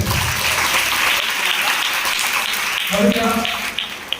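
Church congregation applauding loudly during a Good Friday sermon, a dense steady wash of clapping with a voice briefly rising over it near the end.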